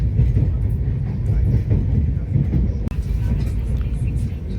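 A train rumbles low and steady close by at a railway platform, with voices murmuring over the heavy mechanical drone.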